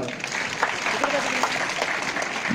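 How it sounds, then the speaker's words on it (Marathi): A workshop audience claps continuously throughout, dense and even, while someone speaks over the clapping. "त्याच्यासाठी टाळ्या वाजवा जरा"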